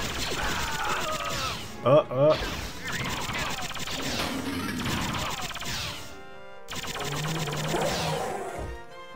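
Enemy gunfire in the Dark Forces video game sewer level, sharp bursts of blaster shots mixed with game effects, while people talk over it throughout.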